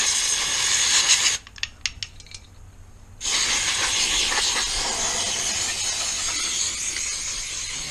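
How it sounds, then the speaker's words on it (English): Brake cleaner hisses loudly from an aerosol can onto engine pistons during a Celica engine rebuild, a continuous close spray that pauses briefly with a few small metallic clicks, then resumes. "I go through a lot of brake cleaner."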